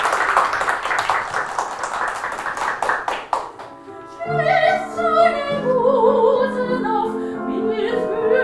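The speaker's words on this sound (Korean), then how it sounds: "박수 한번 주시기 바랍니다" Audience clapping at a lecture on Western music history and Schumann, a few seconds of fairly close, rhythmic hand claps that stop abruptly, followed by a person talking.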